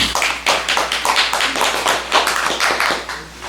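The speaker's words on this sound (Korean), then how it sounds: "박수 쳐주십시오" An audience claps together at a Buddhist dharma talk, a dense patter of many hands that holds steady and fairly close, with no voices over it.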